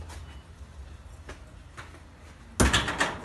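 A door bangs open abruptly near the end, a loud sudden clatter that follows quiet room noise and a few faint knocks.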